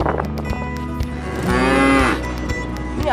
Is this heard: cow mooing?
yes